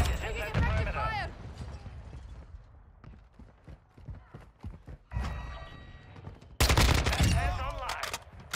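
Gunfire in Modern Warfare 2 during a hardpoint match with a Kastov 545 rifle: sharp automatic bursts and single shots crackle at close range, interrupted by game voice callouts and quieter gaps of scattered fire.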